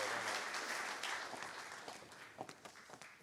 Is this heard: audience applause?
yes